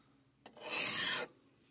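A file rasps across a sharp metal edge on a Chinese X Y table, one close, steady stroke lasting about half a second after a light initial tap.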